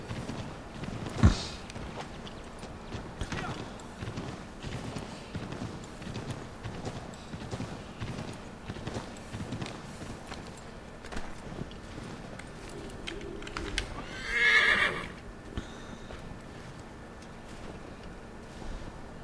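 Horse hooves clip-clop at a steady walking pace in the video game Assassin's Creed III, faint and even over a low windy ambience, with one brief louder accent near the end.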